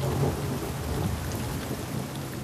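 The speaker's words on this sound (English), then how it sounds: "The rain can be incessant, bringing not just cold," Rain and thunderstorm in the Drakensberg mountains, a steady dense wash of rainfall with low rumbling thunder underneath, continuous and fairly loud throughout.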